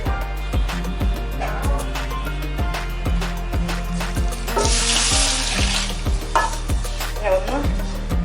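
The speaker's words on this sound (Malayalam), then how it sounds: "ഇനി ഞാൻ ഇതിലേക്ക് കുറച്ച് തിളച്ച വെള്ളമാണ് ഒഴിച്ചു കൊടുക്കുന്നത്." Boiling water poured onto roasted vermicelli in a pan for semiya payasam, giving a burst of loud hissing sizzle midway over a steady rhythmic thumping background with clattering utensil sounds.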